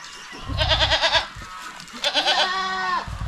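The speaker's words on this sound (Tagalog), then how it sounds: "Yan po ang isa natin lalaking kambing" A hornless male goat bleats twice nearby, each call a loud, wavering cry, with a softer drawn-out bleat trailing after the second.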